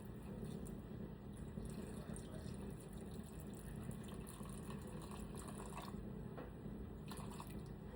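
Warm tap water is poured into sourdough dough in a steady, fairly quiet trickling stream that runs continuously with light splashes.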